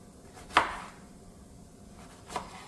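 A knife cutting jalapeno on a board, two separate close chops about two seconds apart, the first louder, over a quiet background with no speech.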